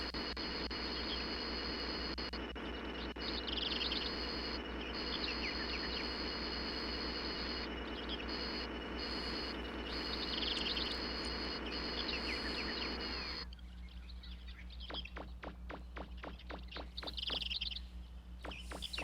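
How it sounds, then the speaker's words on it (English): Birds chirping in the video game Megaman 64, a steady layered twitter of calls over a continuous electronic hum, then sparser chirps with rapid clicking after the hum drops out. "So many birds."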